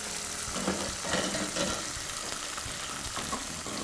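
Peppers and onions sizzle and crackle steadily in a pot up close for egusi soya soup, with faint stirring scrapes and small pops throughout.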